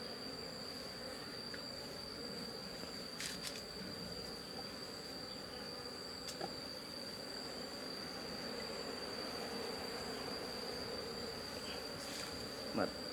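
Honeybees hum faintly and continuously around a hive during a eucalyptus honey harvest, a steady low buzz with a few brief louder passes close by and no talk.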